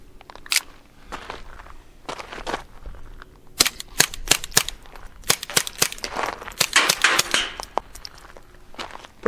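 A suppressed Walther P22Q pistol fires ten Federal rounds outdoors, sharp muffled cracks in an uneven sequence with quiet clinks and shuffling between shots.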